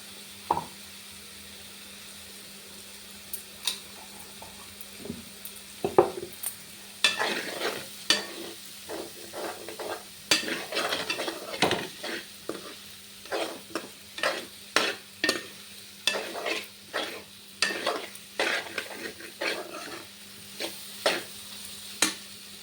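Two beaten eggs sizzle quietly in a pan with broad beans while a utensil scrapes and taps against it in irregular stirring strokes, growing busier over time.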